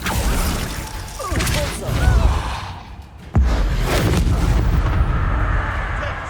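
Confringo fire spells in the game Hogwarts Legacy burst as loud, booming explosions with whooshing rushes and rumbling debris, one sharp blast landing after a brief lull.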